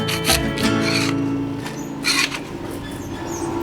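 Hardened wax being scraped off crayon moulds, heard as close, rough rasping strokes in a few bursts over a steady background hum, with no talking.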